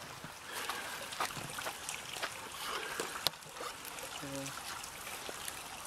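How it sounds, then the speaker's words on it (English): A small stream trickles quietly near Grace Dieu Priory, a soft, steady outdoor babble of water with occasional faint splashes. "So you can hear that stream here."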